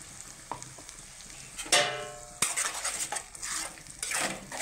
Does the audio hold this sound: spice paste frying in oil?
yes